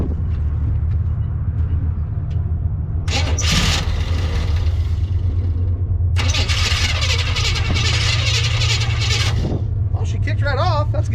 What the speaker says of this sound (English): Let's see if we can get it fired up.